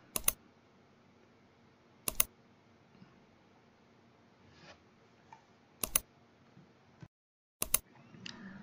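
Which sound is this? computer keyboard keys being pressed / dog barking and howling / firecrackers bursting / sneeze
computer keyboard keys being pressed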